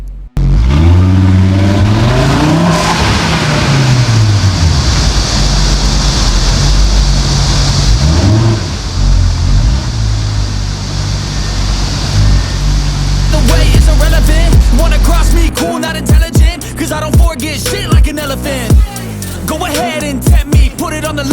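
Audi RS3 with its valves open, its exhaust droning loud and close as it pulls away and accelerates, the pitch sweeping up and down through the gears, then sharp pops and crackles on lift-off near the end.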